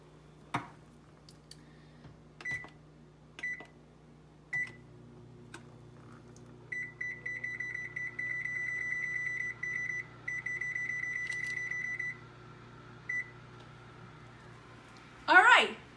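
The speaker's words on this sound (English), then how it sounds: "I better heat up my oven." An oven being switched on to preheat gives a string of sharp beeps and clicks, then a long run of rapid electronic beeping, ending in a louder rustle, all fairly faint against a low hum.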